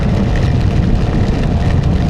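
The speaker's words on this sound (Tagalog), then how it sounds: "pauwi na tayo at eto, umuulan na nga" Dense, steady rain hissing loudly and continuously during a motorcycle ride, with a low rumble underneath, heard up close.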